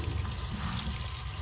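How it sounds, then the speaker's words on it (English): Boiled spaghetti water draining through a sieve in a home kitchen, a continuous rushing, splashing pour with steady low gurgling, fairly close, no voices. "Now the spaghetti is done, so I'm going to bring it out of the water and sieve it out."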